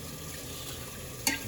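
Rice being stirred in a pot of water while making homemade prawn biryani: a soft, steady swirling wash of water, with one brief sharp scrape or clink near the end.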